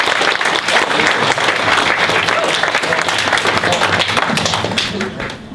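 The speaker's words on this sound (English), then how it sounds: "Big round of applause." Audience at a university All Nations Feast giving a big round of applause, dense and loud crowd clapping throughout, with some voices underneath and a slight drop at the end.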